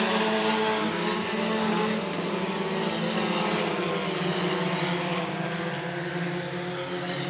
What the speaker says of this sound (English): They race down the front straightaway once again.